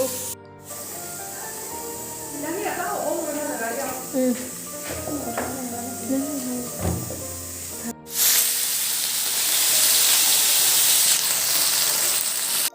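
Fresh fish fries in a wok. Clattering and a voice come first, and then a loud, close, continuous sizzle fills the second half.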